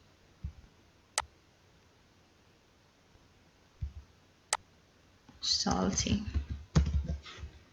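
A handful of separate keystroke clicks on a computer keyboard while text is typed into a Canva design, spaced apart and fairly quiet, followed by a voice speaking close up.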